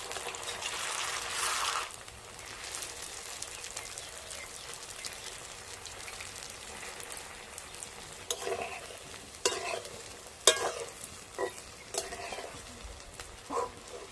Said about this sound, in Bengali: উল্টে পাল্টে পনিরগুলোকে ভেজে নেব।